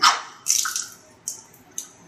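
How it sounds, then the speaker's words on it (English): Water switched on through a newly installed RPZ backflow preventer valve: a hissing spurt of discharge followed by two shorter splashing bursts, close and fairly quiet. "and open up the water"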